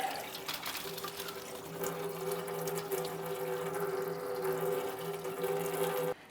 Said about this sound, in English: Now that our radiator is drained out, go ahead and install your drain plug